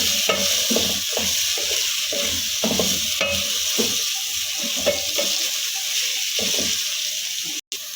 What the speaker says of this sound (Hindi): फिर अच्छे से मिक्स कर लेंगे फलियों के अंदर आलू को। 1 से 2 मिनट तक हमने इन दोनों चीज़ों को अच्छे से हिला लेना है।